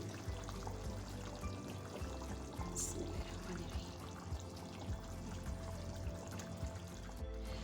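Kebabs are added one after another into a karahi pan for a kebab karahi, giving a soft, steady hissing sizzle with faint watery textures, fairly quiet and continuous.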